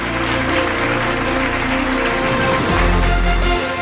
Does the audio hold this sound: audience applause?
yes